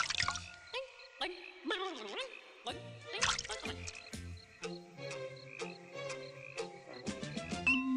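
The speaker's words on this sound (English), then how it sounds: "In case you couldn't understand what a froggy croaks" A cartoon frog croaks in a vintage animated Thumbelina film, the croaks mixed into busy orchestral music with sliding, bouncy notes throughout.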